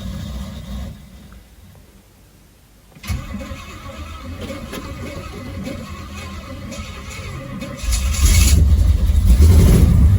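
A 1973 Pontiac Firebird V8 whose engine misfires until warm, running and pulling away while driving; a low rumble after a quiet moment, then a louder surge as it revs and accelerates near the end.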